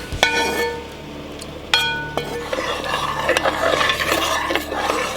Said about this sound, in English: we're going to pour the onions in the soup along with all the oil